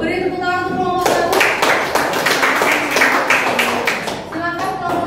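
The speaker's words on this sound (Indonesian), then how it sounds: "Beri tepuk tangan untuk kelompok 1." Students in an Indonesian classroom clap for a group. A burst of close, lively hand claps lasts a few seconds, with a voice speaking just before and after.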